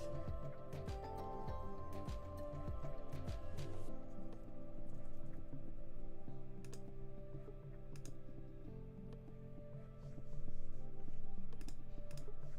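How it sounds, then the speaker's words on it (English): Faint computer keyboard typing and mouse clicking while textures are chosen for visual effects, scattered soft clicks over a low humming background, no talk. "Might hear a lot of clicking as I try to figure out what to go with."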